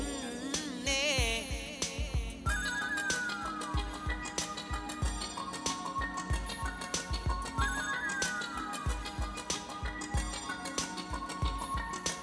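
A phone ringtone announces an incoming call in a Tamil film scene, a looping electronic melody with bell-like tones and a steady beat that plays continuously and fairly loud, with no talking over it.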